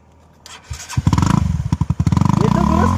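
A Honda CBR 250 motorcycle without a silencer starts up and then revs. A loud, close, raw exhaust rattles in a rapid choppy rhythm that grows steadier. A few sharp thumps come just before the engine catches.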